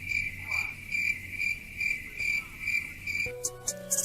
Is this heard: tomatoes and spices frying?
no